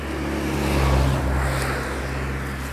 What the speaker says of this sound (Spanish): Aquí los coches pasan volados.